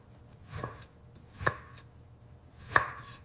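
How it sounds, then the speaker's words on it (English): A knife chops through a banana on a cutting board, three distinct cuts spaced about a second apart, each a short crisp thud in an otherwise quiet kitchen. "Start by slicing your banana into bite-sized pieces."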